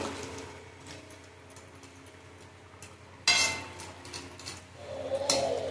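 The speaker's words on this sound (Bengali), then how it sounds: "এখন ভেজে রাখা কাঁকড়াও দিয়ে দেবো। কাঁকড়া দিয়ে ভালো করে নেড়ে দেবো।" Fried crab stirred through a crab curry in a pan with chopped coriander, giving scattered scraping clinks of a utensil against metal, with a sharper knock near the middle and a louder clatter near the end.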